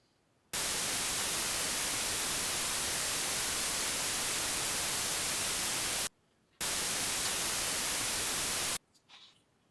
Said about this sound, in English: So we'll do white noise.